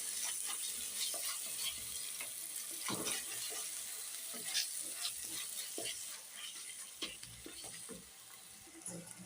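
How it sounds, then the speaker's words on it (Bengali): Salted, whisked sour yogurt is stirred into a spice masala frying in a pan: a quiet, steady sizzle broken by scraping stir strokes and soft clicks. "এবার এটাও ভালো করে মিক্স করে নেবো মশলাটার মধ্যে"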